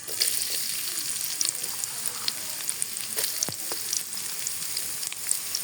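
Chopped onions sizzle in a hot pan with cloves and black peppercorns, a steady close crackling hiss broken by sharp pops and soft stirring sounds.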